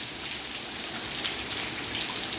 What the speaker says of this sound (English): Yes, it's raining again